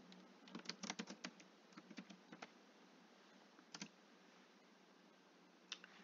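Quick, faint clicking of computer keys as a search is typed, a cluster of taps in the first two and a half seconds, then a few isolated strokes later over a quiet hiss, with no talking.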